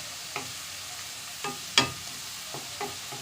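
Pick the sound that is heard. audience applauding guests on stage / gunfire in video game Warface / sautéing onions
sautéing onions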